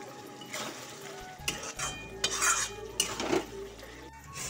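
Chicken curry with garam masala being stirred in a pan, with a series of scraping, clinking utensil strokes against metal over a soft background sizzle, moderately close and irregular in rhythm.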